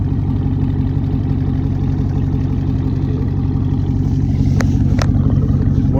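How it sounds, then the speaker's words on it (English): Car engine idling while it warms up in the snow, a steady low rumble close by, with a couple of faint clicks near the end. "Warming up the car."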